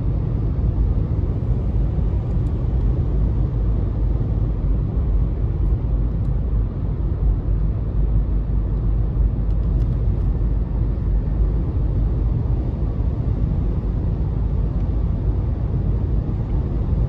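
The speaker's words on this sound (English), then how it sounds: "So pretty decent acceleration, even in the eco mode." A 2015 Nissan Leaf SV electric car accelerates in eco mode, heard from inside as a steady low road and motor rumble that holds even and continuous throughout, with no voices.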